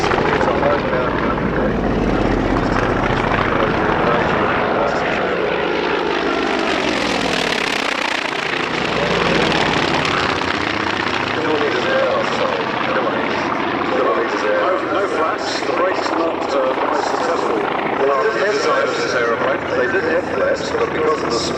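A Polikarpov I-16 propeller fighter with a 1,000-horsepower engine roars in flight at a 1998 Wanaka airshow, swelling loudly as it sweeps past and then droning on steadily, with commentary spoken over it throughout.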